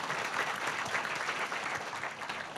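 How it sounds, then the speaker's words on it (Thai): A crowd at a Giffarine business gathering claps loudly and continuously, a thick, even wash of applause filling the whole moment without any voice on top. "ปรบมือดังๆให้กับกิฟฟอรีนหน่อยสิครับ"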